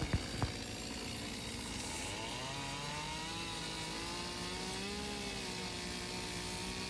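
A chainsaw trims out wood just below the arm of a standing bear sculpture, its engine droning loud and steady at close range with shifting pitch as the bar cuts, after two brief knocks at the start.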